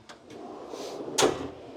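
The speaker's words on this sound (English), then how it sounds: "They pull out pretty much all the way, which is really good, give you access to the back of the drawers." Storage drawers sliding out on locking runners in a Toyota Hiace van, a few light clicks then a smooth rolling slide ending in a sharp catch, close by, with no talking.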